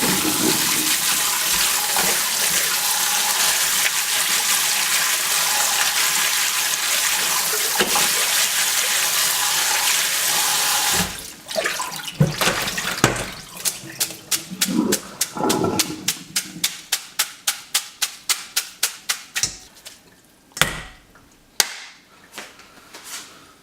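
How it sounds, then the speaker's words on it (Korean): Boiled thin wheat noodles poured out and rinsed under cold running water, with a loud, continuous rush of water for about eleven seconds, then sharp repeated clacks and splashes as the noodles are handled and drained. "차가운 물에 부어서 헹궈줍니다. 차가운 물로 꼭 하셔야 돼요."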